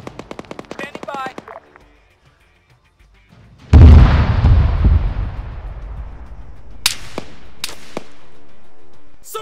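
Video game combat: a rattling burst of automatic fire, a pause, then a loud booming explosion that rolls and decays, followed by a few scattered sharp shots, with radio-style voices speaking.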